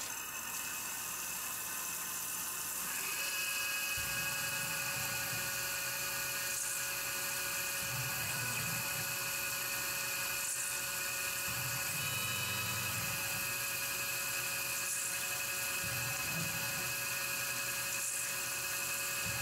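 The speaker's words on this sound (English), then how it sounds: "I'm gonna drill all the holes that I need to drill" A cobalt drill bit boring holes into titanium for a knife-making project, a steady high-pitched whine with a shrill tonal squeal that holds constant, plus periodic lower grinding surges as the bit bites into the metal.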